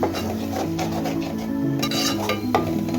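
Ground coconut paste being sautéed in oil in a pan, with steady stirring and scraping of a spoon against the pot and a light sizzle, and occasional metallic clinks throughout.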